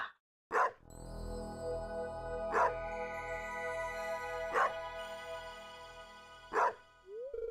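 Dog barks from a dog trap in a video game sound as four sharp, evenly spaced barks over a steady tonal game music backdrop, ending with a brief rising chime.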